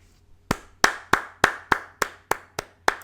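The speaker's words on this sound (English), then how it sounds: "Just thought I'd give you a round of applause" A single person claps about nine times in a steady, moderately paced rhythm, each clap sharp and close, with no talk over it.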